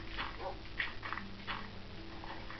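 A dog in the Minecraft video game makes a few faint, short yelping or panting sounds against a quiet background.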